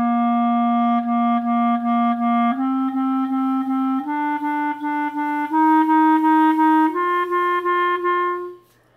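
A clarinet plays a slow ascending line up to G, each pitch tongued four times in even detached notes, clear and close with no talking.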